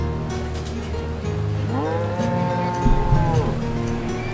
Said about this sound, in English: These cows are not going anywhere